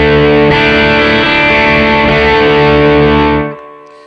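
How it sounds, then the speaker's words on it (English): A loud, thick electric guitar chord through an Xotic AC Boost overdrive pedal, low-to-medium gain, rings out with sustain, then cuts off sharply near the end. "The AC Boost is an overdrive or distortion pedal that's kind of low to medium gain"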